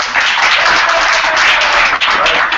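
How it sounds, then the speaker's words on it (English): Hackathon audience applauds in San Francisco, a dense, continuous wash of clapping from many hands, loud and close, with no break through the whole stretch. "give yourselves a round of applause"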